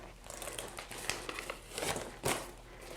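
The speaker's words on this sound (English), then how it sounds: "So I'm going to peel off this edge here" Paper backing is peeled off a large vinyl wall decal, giving a close, steady crinkling and tearing rustle with a few sharper crackles and no voices.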